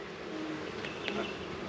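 Honeybees buzz around hive boxes that are being split apart, a faint, steady drone at close range, with no break through the brief moment.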